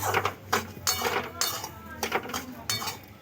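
Semolina and milk being stirred in a pan over a low flame, the spoon scraping and clinking against the metal in several short bursts with small pauses between strokes.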